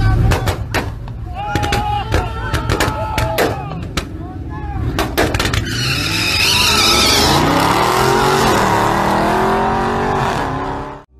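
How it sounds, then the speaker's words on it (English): Turbocharged VW Beetle and a Dodge Charger on a drag strip, with sharp popping bangs and exhaust crackles at first, then a loud sustained engine roar rising in pitch as the cars launch and pull away. "now you will see a turbo beetle totally embarrassing a charger on the drag strip"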